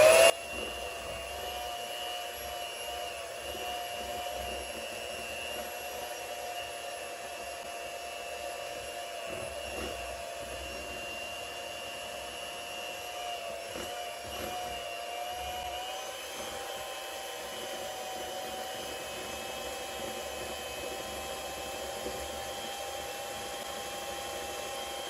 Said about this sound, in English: on a regular mixer that works well with low setting, you can gently raise up the beaters